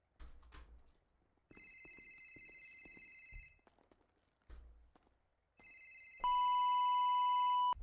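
A ringtone from a phone in GTA RP, trilling in repeated bursts with short gaps and thumps between, the final burst louder with a steady tone.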